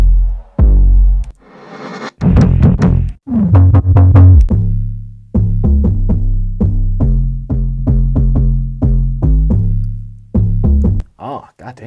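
A bass loop from a bounce-style sample pack plays alone and loud, thumping out a punchy, syncopated bassline of repeated short notes in a steady groove.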